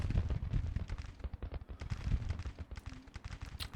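Civil War battle in Grand Tactician: The Civil War, with a rolling din of distant musket volleys and deep artillery booms. The crackle and thumps overlap continuously at moderate volume, with no voices.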